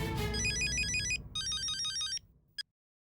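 A telephone rings with an electronic warbling ringtone, two long bursts then a short clipped third, over low background sound, in a comedy scene about a phone call.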